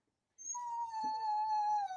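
A dog gives one drawn-out, high, tonal whine that slides slightly downward and sounds close and clear against a quiet background.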